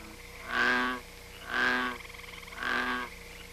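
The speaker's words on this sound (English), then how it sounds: "There's the frog." A frog croaks three times at an even pace, each call a buzzy, drawn-out rasp, with quiet background between.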